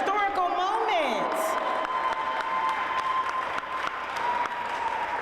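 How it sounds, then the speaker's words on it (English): Audience applause at an opera company's opening reception, a steady spread of clapping and some cheering that follows a voice at the start and carries on at moderate level. "Another round of applause, please."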